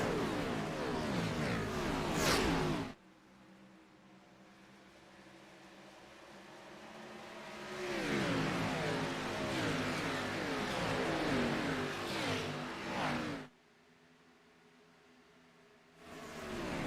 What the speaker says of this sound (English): we are going to turn it up right now and let you listen to some of these cars as we rock it around Homestead